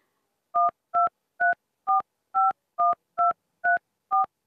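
Phone keypad DTMF tones as a phone number is entered into the Aarogya Setu app: nine evenly spaced dual-tone beeps, clear and close, with no talking over them.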